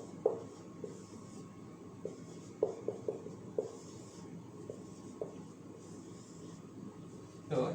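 Steady scratching of a pen or marker on a board as gametes are written along the edge of a genetics checkerboard during a biology lesson, with scattered sharper taps and strokes over a faint background hiss.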